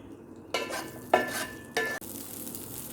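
Cauliflower pieces stirred in hot oil with turmeric, three distinct bursts of loud close sizzling and scraping over a steady background fry, no talking.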